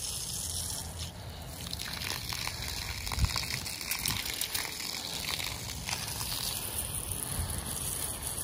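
Water runs in a steady, fairly quiet gushing stream for an American Bully dog, with faint splashing and clatter mixed in.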